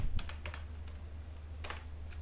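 Computer keyboard keys clacking in short irregular bursts as code is typed, fairly close over a steady low hum, with no voices.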